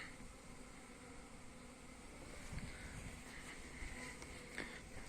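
A steady buzzing hum of many honeybees flying around hives in December, continuous and fairly faint, with light wind noise outdoors.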